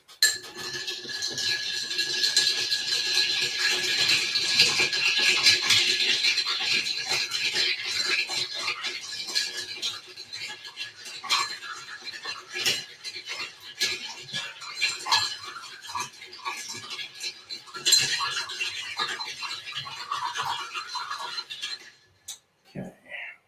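A spoon stirs a cooking pot in a home kitchen, giving repeated metallic scrapes and light clinks at a steady pace, with some quieter gaps and occasional speech.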